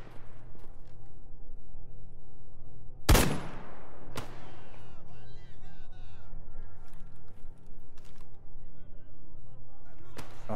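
A few isolated gun blasts in the video game S.T.A.L.K.E.R. GAMMA, one sharp loud shot followed by a second about a second later and a softer one near the end, set against a steady low ambient rumble.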